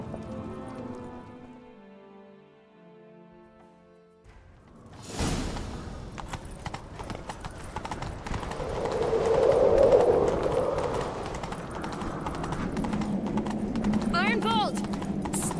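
Rapid hoofbeats of a galloping horse kick in after a quiet start, with rushing wind and voices talking over the ride, in The Witcher 3: Wild Hunt.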